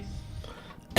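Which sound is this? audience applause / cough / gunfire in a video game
cough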